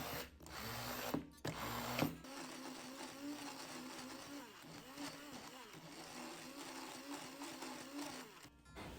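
A blender whirs steadily as it blends curd filling with coconut flakes for a Raffaello-style pie, a continuous motor drone that runs for most of the clip after a few brief bumps at the start.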